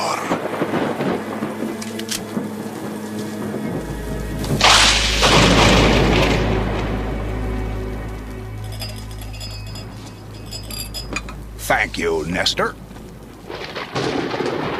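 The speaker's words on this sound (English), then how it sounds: "What a storm!" Loud rolling thunderclap from a storm booms and swells, then fades under rain and scattered clinks; a voice speaks briefly before it, with more short talk near the end.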